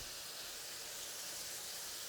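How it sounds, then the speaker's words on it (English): Steady, loud hissing and bubbling of sauce boiling hard in a wok over a gas flame, continuous with no talking. "that is vigorously boiling really quickly on this gas flame"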